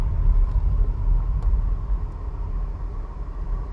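Tire roar from a 2007 Buick LaCrosse rolling over a rough surface, a steady low rumble heard from inside the car, continuous and fairly loud with a few faint ticks and no talking.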